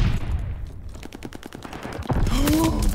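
Gunfire from the Call of Duty Vanguard video game: a rapid string of sharp shots in steady rhythm, mid-distance, mixed with explosive game noise and ambient battle clutter.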